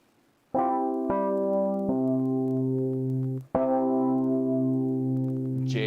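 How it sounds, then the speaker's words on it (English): A software Rhodes electric piano plays alone, a few sustained chords with soft bell-like attacks, each note ringing steadily before the next is struck. "So this is the sound of like a Rhodes electric piano."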